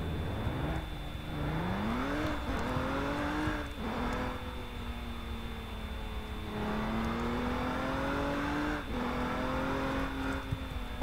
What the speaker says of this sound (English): That big tow truck got some get up and go.